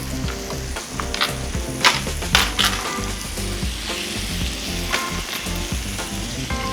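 Tomatoes hitting fried onions in a hot pan for palak paneer, a loud steady sizzle with scraping stirs and clatter throughout, close up and without talk.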